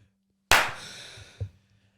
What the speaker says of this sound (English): Clap your hands, Tom.